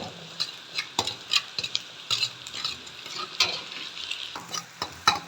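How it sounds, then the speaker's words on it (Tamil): A cracked egg is stir-fried in a hot pan with a spatula while making chicken rice, giving a steady close sizzle with repeated sharp scraping and clinking strokes in an uneven rhythm. "ஒரு முட்டையை வந்து உடச்சி ஊற்றிட்டேன் பாருங்கள் இதையும் வந்து நல்லா இந்த மாதிரி வதக்கிக்கலாம்"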